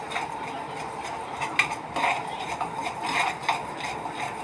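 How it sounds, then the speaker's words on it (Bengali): Milk with whole-grain sugar is stirred often in a pot for cherry gujiya sandesh, a soft steady scraping and swishing with faint light clinks of the spoon against the metal, close and without talk. "খুব ঘন ঘন কিন্তু নাড়তে হবে দুধটাকে"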